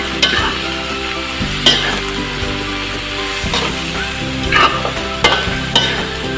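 Squash, string beans and okra stirred in a pan for a coconut-milk vegetable and meat dish, loud close scraping and clanking of a spatula over a steady low sizzle, in irregular strokes with no talk.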